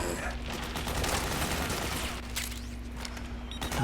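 Mortar fire in the video game Metal Gear Solid 4: a dense, continuous barrage of loud booms and gunfire rumbling through the whole stretch, with no pauses.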